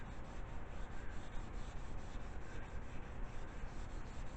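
Rhythmic back-and-forth wet sanding of a Telecaster guitar's paint with sandpaper, steady repeated strokes close by with a slightly wet, scratchy texture.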